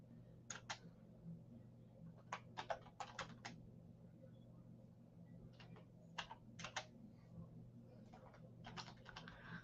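Bursts of typing on a computer keyboard during a Halloween trivia game night, clustered keystroke runs separated by short pauses over a low steady room hum, fairly quiet and with no talk.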